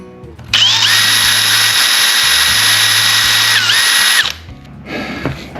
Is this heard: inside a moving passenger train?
no